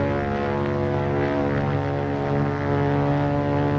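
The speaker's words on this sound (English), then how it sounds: "Another plane." Propeller-driven fighter plane engine droning steadily and loudly, a deep even hum with strong low harmonics sustained throughout with no talk.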